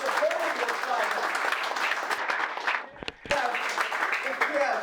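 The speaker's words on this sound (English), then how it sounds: "give me and all of us a big round of applause for supporting this project" A crowd at a train station funding celebration bursts into loud, sustained applause, with cheering voices mixed in, briefly dipping at a short break before the clapping surges back strongly.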